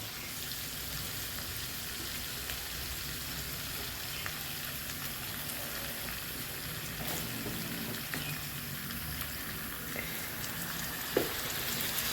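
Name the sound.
water poured into frying pan with crispy pork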